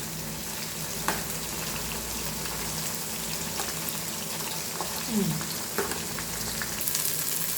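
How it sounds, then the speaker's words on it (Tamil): Chicken being tossed and fried in a pan while making chicken biryani: a steady broadband sizzle throughout, with occasional clinks and a soft scraping stir midway, faint and constant. "இப்போது இந்த சிக்கனை இப்போது பெரட்டி போட்டு"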